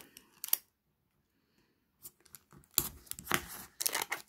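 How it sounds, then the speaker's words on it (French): Scissors cut into a 3D puzzle booster pack with a quick snip, then after a pause come close crisp snips and crinkling plastic sounds in short bursts. "Je prends mon ciseau."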